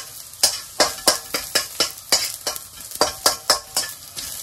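Courgette fries in a very hot pan, with a fast rhythmic series of about a dozen sharp stirring scrapes over a steady sizzle, close and fairly loud, with no voices.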